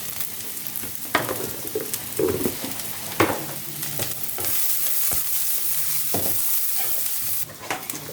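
Two large onions and curry leaves fry in a small amount of oil in a pan for a mushroom kulambu, a steady close sizzle broken by irregular spatula scrapes and knocks, with no talking.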